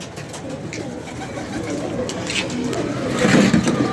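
Pigeons coo softly in a loft, low murmuring calls layered over steady background noise, with someone talking throughout.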